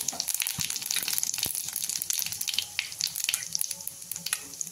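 Mustard seeds and a pinch of cumin crackle and sizzle in hot oil in a home kitchen pan, a steady bright frying hiss with scattered pops, close and continuous.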